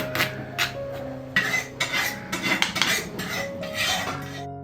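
A spoon scrapes and clinks against metal as chutney is moved into a bowl, in a series of close, bright scraping strokes and taps.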